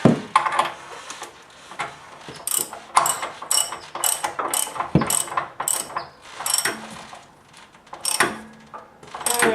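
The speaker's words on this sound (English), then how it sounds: "Make sure you're going the right way on your wrench." Socket wrench ratcheting to loosen the anode rod on a water heater, bursts of rapid clicking pawl strokes repeating in an uneven rhythm, close and fairly loud with no talking.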